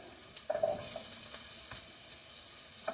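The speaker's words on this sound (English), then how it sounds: "let this saute for about 5 minutes, just till it gets a little soft" Celery root with garlic, thyme and rosemary sautéing in olive oil, a faint low sizzle with a few soft stirring clicks and scrapes in an otherwise quiet kitchen.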